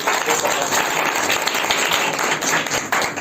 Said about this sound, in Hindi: देखो जीतने वाले को एक ताली मार दो भाई